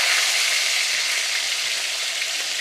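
Pork pieces, some thick and fatty, frying in a pan with a constant close sizzle that stays even and unbroken throughout.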